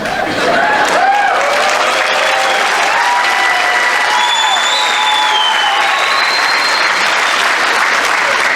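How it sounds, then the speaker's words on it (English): Graduation audience at a college preparatory academy applauding steadily, a dense, loud wash of clapping with scattered cheers and whistles running the whole way through. "while they are applauding you"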